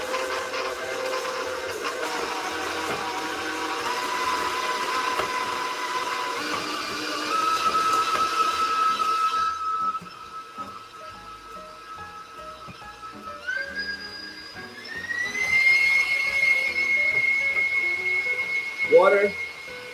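Electric mixer creaming moist vanilla oatmeal cookie dough with water and flax seeds, a steady machine whir that shifts pitch and grows louder partway through, with talking over it.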